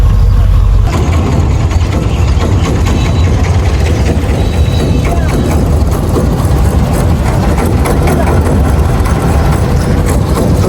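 A steady, low engine drone runs throughout at constant loudness, like a boat motor idling close by at a river ferry landing, with no talking over it.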